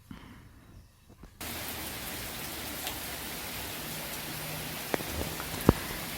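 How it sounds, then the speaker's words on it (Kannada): Heavy rain suddenly starts pouring after a brief quiet moment, a constant loud hiss of drops with a few sharp knocks standing out near the end. "ಮಳೆ ಬರ್ತಾ ಇದೆ ತುಂಬ ಜೋರಾಗೆಲ್ಲ ಡಜ್ಲಾಗ್ತಾ ಇದೆ"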